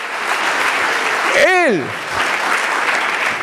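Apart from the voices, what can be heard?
congregation applauding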